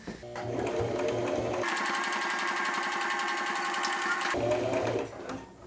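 A sewing machine runs in one steady burst of about three seconds as it stitches a seam on a robe, loud and close, with brief handling noise before and after.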